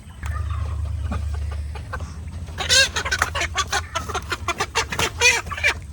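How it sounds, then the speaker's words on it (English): A rooster and hens clucking and squawking close by in a flurry of short calls, with a low hum underneath at the start. "That's a rooster."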